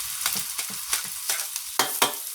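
Pork stir-frying in a pan, with rhythmic bursts of sizzle as a spatula tosses and scrapes about eight times in quick succession, close and moderately loud.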